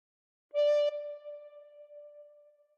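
A single recorder note played with the thumb hole pinched and fingers 1 to 6 covering holes 1 to 6, one steady tone that starts bright and fades into a softer sustained ring, heard alone.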